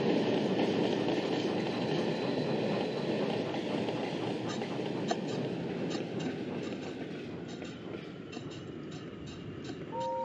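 A train rumbles along steadily with rattling and clicking wheels, loud and close throughout, heard alone without voices.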